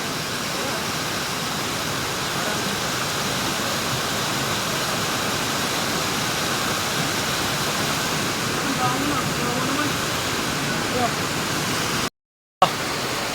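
Continuous broadband rushing of river water, steady and fairly close, with a brief dropout near the end.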